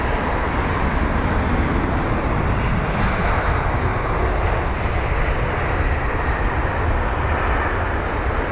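Jet airliners roll along runway 27 right at London Heathrow, a steady loud broadband engine roar that holds constant throughout with no voices.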